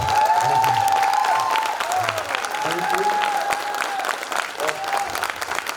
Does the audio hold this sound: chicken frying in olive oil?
no